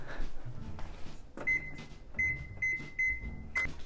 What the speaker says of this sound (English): we're going to preheat our oven to 350 degrees